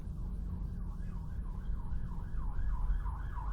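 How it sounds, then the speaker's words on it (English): A wailing police car siren sweeps up and down in a steady repeating cycle, fairly distant, over a low rumble of UK road traffic. "You'll hear the sirens in a second."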